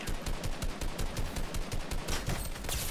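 Dense, rapid gunfire crackles without a break in a video game firefight, bursts overlapping in an automatic-weapon rattle that stays loud and close throughout.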